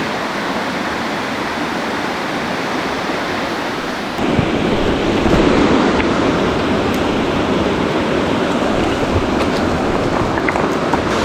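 A creek rushes loudly nearby in spring woods, a dense continuous roar of flowing water that grows louder partway through and then stays steady, with no talking.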